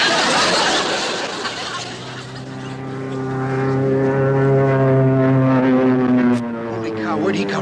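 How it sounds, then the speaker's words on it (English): Enemy propeller airplane passing overhead in a WWII naval setting, its droning engine rising with steady harmonic tones, loud and close, with shouting voices over it. "Hey, enemy plane! Take cover!"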